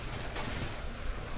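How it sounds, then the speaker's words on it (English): Dense, rumbling artillery barrage in the WWII shooter Red Orchestra 2, a continuous roar of distant booms and blasts filling the short stretch with no pauses, no talking. "I'm just waiting for the artillery to end before I can move across."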